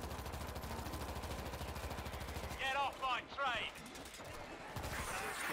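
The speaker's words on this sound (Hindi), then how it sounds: "ये जो तीन तीन गोलियाँ भाई साहब एक ही दफा में निकालती है ये जो गन है" Gunfire rattles in rapid, dense bursts from a three-shot weapon in the World War Z zombie game, continuing steadily for a few seconds. It briefly gives way to a short chirping sound, then the shooting resumes.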